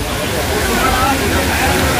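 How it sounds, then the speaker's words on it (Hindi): A waterfall near Neelkanth in Rishikesh roars as a loud, steady rush of falling water, with someone talking over it. "और ये झरना देखो"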